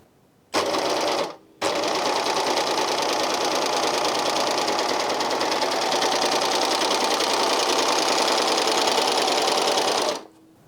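A Janome 134D serger runs steadily while sewing a rolled hem, a loud, close, continuous mechanical whirr with a brief stop near the start and then about nine seconds of unbroken stitching before it halts.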